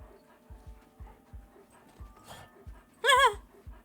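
A dog panting in The Red Lantern video game, a steady rhythm of short breathy huffs ending in a brief high whimpering whine, close and clear with no talk over it.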